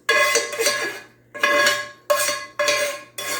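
Metal scraping and clanking of a utensil stirring food with oil and butter in a cast iron pan, in several bursts with brief pauses, fairly loud and close, no talking.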